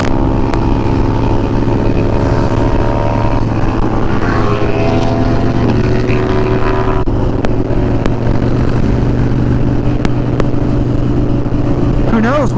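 A 2012 Harley-Davidson Dyna Wide Glide with Vance & Hines exhaust pipes rumbles steadily while being ridden on the road, a loud, constant engine drone with shifting pitch and wind noise throughout.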